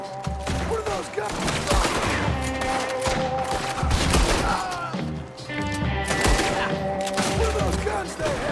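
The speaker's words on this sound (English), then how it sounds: "What are those guns they have?" Dense, loud gunfire from a firefight in Red Dead Redemption, rapid overlapping shots and rattling bursts continuing throughout, with shouting voices mixed in.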